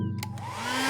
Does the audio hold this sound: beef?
no